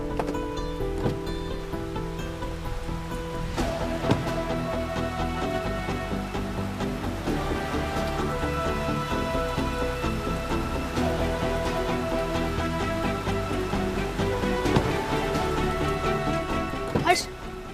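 Steady rain patters on a surface throughout, with soft music playing underneath and occasional louder drips.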